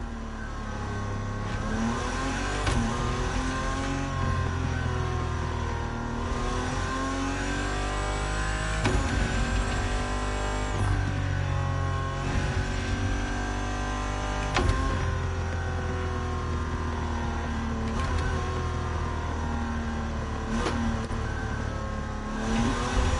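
A dream car is driven at speed with a loud, close engine revving up and down through repeated gear changes, over road noise, and no one speaks.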